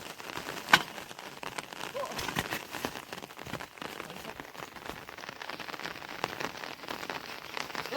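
Rain falling during an outdoor mountain bike stunt outing, a faint, steady patter of drops on surfaces with scattered louder splashes, no clear talk.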